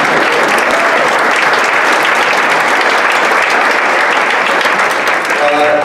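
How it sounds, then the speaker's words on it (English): Loud, sustained applause from a gala audience fills the room, a dense, even roar of many hands clapping without pause for several seconds. "I know we've already clapped 50 times for them, so let's make it 51."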